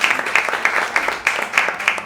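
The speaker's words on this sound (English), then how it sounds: "Give him a round of applause." Steady applause from a live storytelling show audience, a dense patter of clapping with a regular pulse throughout.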